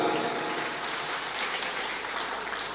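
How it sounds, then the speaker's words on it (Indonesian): A seated religious lecture audience clapping together in a hall, a broad, steady wash of applause at moderate level lasting throughout. "Tepuk tangan untuk Nahdlatul Ulama"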